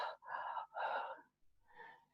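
A voice imitates someone gasping for breath after running into a court hall, giving a few heavy, breathy gulps in quick succession, close and clear, with no other sound.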